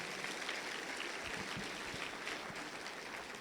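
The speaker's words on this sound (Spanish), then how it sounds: "Alguien dele un aplauso fuerte al Señor." A church congregation claps together in a brief, steady burst of applause, faint and somewhat distant, with no talking over it.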